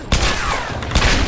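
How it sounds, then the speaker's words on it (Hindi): Sharp machine gun bursts in the action video game Tomb Raider Definitive Edition crack loudly in quick succession, with a few heavy impacts ringing between shots. "Oh no, machine gun. ये बहुत डेंजरस रहता है."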